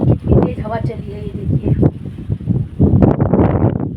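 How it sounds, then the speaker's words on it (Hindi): Strong wind blowing outdoors in hot weather, gusty buffeting rumble against the microphone under someone speaking throughout. "ये देखिए काफ़ी तेज़ हवा चल रही है"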